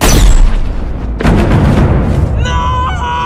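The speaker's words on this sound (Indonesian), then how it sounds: "Lalu Valentine menembak Harry tepat di kepalanya" A gunshot from the film Kingsman: The Secret Service: one loud, abrupt blast with a rumbling tail, then a second thud and ringing, tonal score as the soundtrack continues.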